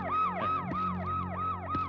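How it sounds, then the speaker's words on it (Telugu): An ambulance siren wails in a rising-and-falling cycle, repeating steadily and loudly throughout, close by and alone without talk. "ఏంట్రా అది గీగి అంటుంది అంబులెన్సా"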